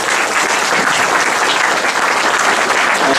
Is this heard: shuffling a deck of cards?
no